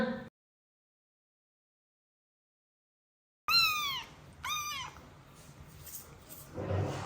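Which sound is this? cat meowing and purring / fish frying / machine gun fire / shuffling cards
cat meowing and purring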